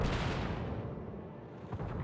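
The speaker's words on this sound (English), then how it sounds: "Lots of action and gunfire going on both sides here." Dense gunfire and explosions from a team shooter video game in a competitive championship match, a continuous loud rumbling barrage of booms and shots with no talk.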